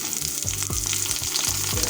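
Chopped onion and garlic frying in hot oil with shrimp, a steady close sizzle and hiss with soft rhythmic stirring scrapes about every quarter second, no voices.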